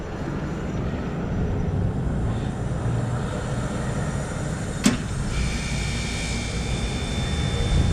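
A beer keg cooler's replacement compressor starts up and runs with a loud, steady broadband hum and whoosh, broken by one sharp click partway through.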